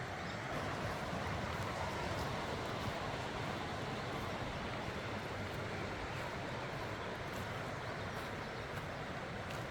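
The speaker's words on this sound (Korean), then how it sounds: "비온 데라 계곡에 물이 더 힘차게 흐르네요" Steady, dense rushing of a rain-swollen mountain stream fills the clip at a moderate distance, constant and unbroken with no other sounds standing out.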